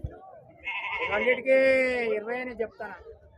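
Male goats for sale at the weekly Friday livestock market in Husnabad; a loud, drawn-out wavering bleat rises among nearby people talking.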